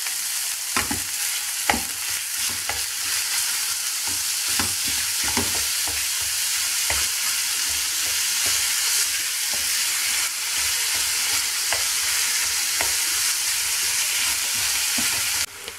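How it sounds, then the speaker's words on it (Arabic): Kofta mince seasoned with salt and spices fries in a pan, a constant loud hiss of sizzling with intermittent sharp scrapes and knocks of a spoon stirring, no voices. "غادي نبقى نحرك حتى كطيب"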